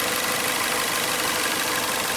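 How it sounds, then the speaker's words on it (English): A new car's 2.0-liter, 4-cylinder, direct-injected engine idles with a steady, dense, unbroken hum and hiss, close and loud throughout with no talking over it. "That's the engine running."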